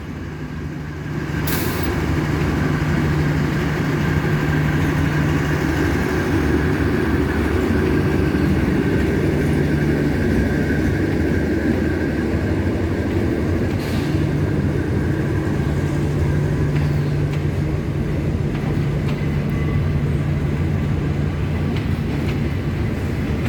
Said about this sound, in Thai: มาแล้วครับทำขบวนด้วยอันสตอมแคทนะคับแคท4301